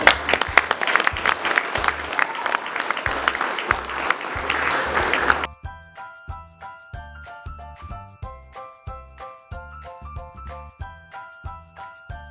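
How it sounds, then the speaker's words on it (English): An audience applauds at a school medal of honor awards ceremony, dense clapping for about five seconds that stops abruptly, leaving a pulsing musical beat playing alone. "big round of applause for this"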